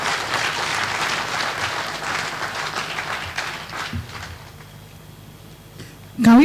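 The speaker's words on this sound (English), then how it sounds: "Can we please appreciate His Eminence with another round of applause?" Audience applause at a graduation lecture, steady clapping from a large crowd that gradually fades out toward the end.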